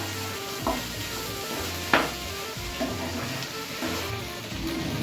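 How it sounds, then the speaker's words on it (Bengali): Prawns hiss and sizzle as they drop into taro stolons frying in oil, with a few sharp stirring scrapes against the pan over a steady close crackle. "এবার এর মধ্যে অ্যাড করে দেবো হচ্ছে চিংড়ি মাছটা"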